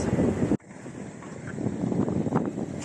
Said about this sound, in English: It's some serious wind here.